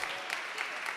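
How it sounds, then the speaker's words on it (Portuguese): Audience applause at a Brazilian political event launching a right-wing women's institute, steady broadband clapping from a crowd filling the whole moment, moderately loud and continuous. "Palmas."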